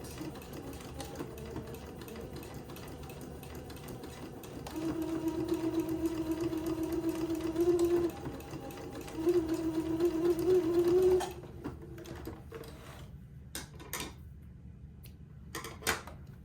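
A sewing machine stitches an elastic casing on plaid button-on bloomers, running in two steady bursts of rapid whirring over a faint room hum, then falling quiet with a few soft clicks and handling taps.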